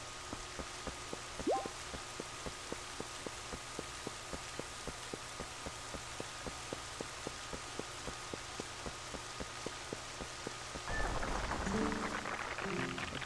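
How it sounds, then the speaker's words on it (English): Steady rain hisses evenly throughout in the video game Legend of Zelda: Twilight Princess, with a faint regular ticking under it and a louder rush of noise near the end. "It's because it's raining?"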